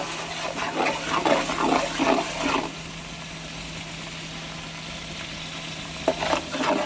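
Browned onions with ginger garlic paste sizzle and stir in a pot for chicken pulao, soft crackling bursts with scraping strokes, then a quieter steady sizzle, faint and close.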